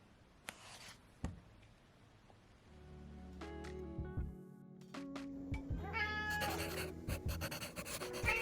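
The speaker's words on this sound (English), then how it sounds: "our 2 cats started meowing between 5 and 7 a.m." Two house cats meowing in the early morning, a few drawn-out tonal meows rising and overlapping near the end, close by, mixed with rustling and soft thumps.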